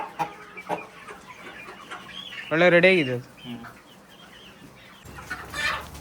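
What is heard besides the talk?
native country chickens clucking on a farm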